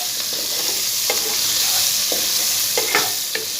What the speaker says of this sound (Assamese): পিঁয়াজখিনি ৰঙচুৱা হোৱালৈকে মই ভাজি ল'ম।